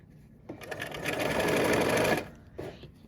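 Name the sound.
sewing machine stitching fabric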